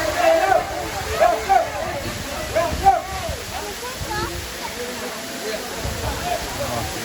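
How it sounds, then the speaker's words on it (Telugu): Rushing water of Katiki waterfall in the Araku Valley, pouring from high between hills, makes a steady broadband roar while voices talk over it throughout. "Katiki water falls."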